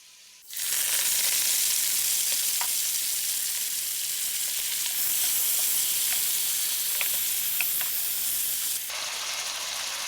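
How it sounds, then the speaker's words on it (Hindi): Fenugreek leaves hit a pan of golden-brown fried onions for Kashmiri methi chicken, setting off a sudden loud, steady sizzle that holds for several seconds with a few faint clicks, then eases slightly. "अब मैं इसमें मेथी ऐड करूंगी फ्राई करने के लिए"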